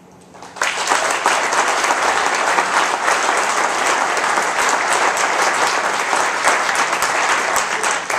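An audience breaks into sudden, full applause after a speech at a primary election debate, a dense, steady wash of clapping that holds at even loudness for several seconds.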